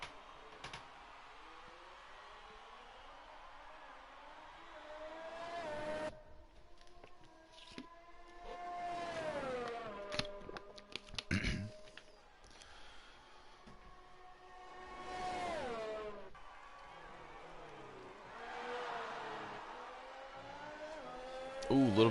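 Race car engine in a racing video game on a flying lap in Italy, a rising and falling whine that sweeps up through gears and drops into corners, heard under ongoing talk from a commentator.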